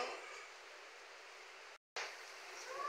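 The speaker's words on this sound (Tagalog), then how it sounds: "Medyo humina na rin yung ulan." Steady rain falls outdoors at night during a brownout in a rural province, a soft, even hiss of moderate-to-light rain with one brief dropout, no voices.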